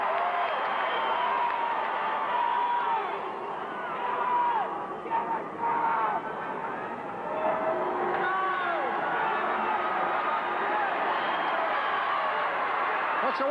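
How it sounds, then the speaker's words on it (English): A dense wrestling arena crowd at a 1995 pro wrestling anniversary show roars and chants steadily, loud and continuous throughout, with overlapping shouts and whoops rising and falling; a commentator's voice can be heard over it. "Crowd is saying, do it, man. Do it."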